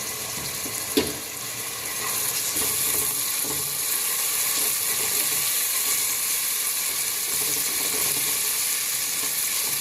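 Onions and garlic fry in a pan with a steady, dense sizzle that carries on for the whole stretch, with a single clunk near the start.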